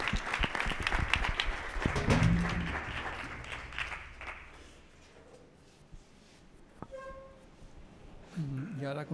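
Audience applause at an arts presentation, brisk clapping loud at first and fading after a few seconds into a quieter room with a few stray sounds and a voice.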